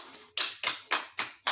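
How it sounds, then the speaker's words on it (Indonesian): Several sharp bursts of hand clapping in quick succession, with short gaps between them, fairly close and moderately loud. "Tepuk tangan untuk kita semua"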